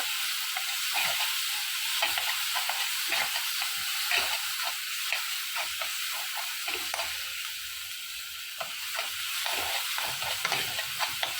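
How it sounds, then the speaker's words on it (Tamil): Onion and green chillies sautéing in hot oil for a fish manchurian, giving a steady close sizzle and hiss throughout with occasional stirring clicks, no talking. "எண்ணெய் காஞ்சிடுச்சு இதில் வந்து வெங்காயமும் பச்சை மிளகாயும் போட்டுக்கலாம் இது அப்படியே நல்லா வதங்கட்டும்"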